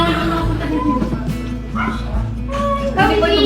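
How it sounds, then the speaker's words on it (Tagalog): Dog barking at a house visit, short yipping barks mixed in with people talking nearby and household noise. "may aso"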